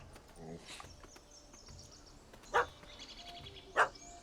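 A puppy in the video game The Witcher 3: Hearts of Stone barks at a cat, two sharp separate barks rising over quiet ambience, with voices also heard faintly.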